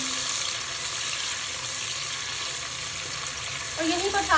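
Tomato and green chilies fry in a pot for matar pulao, a soft continuous sizzle running steadily, then louder stirring and clatter in the final half second.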